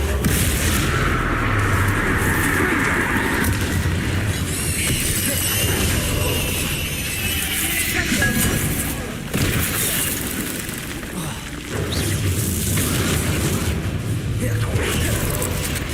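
Booming fire-spell explosions from Hogwarts Legacy combat, repeated blasts over continuous loud game noise with a voice calling out spells.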